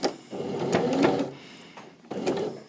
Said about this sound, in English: So we're understitching, stitching close to this folded edge of the binding.